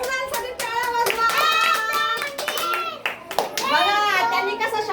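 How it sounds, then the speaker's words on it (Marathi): Children in a classroom clap for a classmate in quick, sharp bursts mixed with excited young voices and an adult speaking over the clapping. "कुणालसाठी टाळ्या वाजवा."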